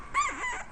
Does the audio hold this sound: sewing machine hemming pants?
no